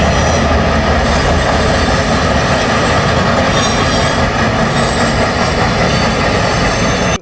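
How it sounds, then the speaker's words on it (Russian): A train rolls in along tracks beside an apartment building in Krasnoyarsk, a loud steady rumble of wagons with squealing wheels and faint clickety-clack running throughout, close and continuous. "Прибытие поезда в квартире ощущается"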